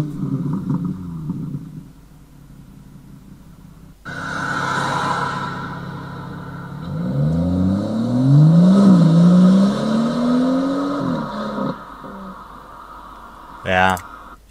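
A BMW M140i with a Remus exhaust and its exhaust flap open runs up through a rising rev, a throaty engine note climbing and falling for several seconds; someone speaks over it before and after.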